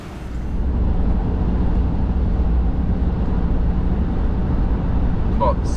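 Steady low engine drone and road rumble inside the cab of a moving 2024 Ram 2500 Cummins diesel pickup, constant and fairly loud throughout.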